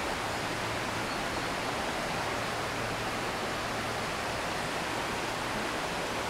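A river rushes past beneath the Stovall Mill covered bridge near Helen, Georgia, a steady, loud, broadband roar of flowing water that continues unchanged throughout with no voices.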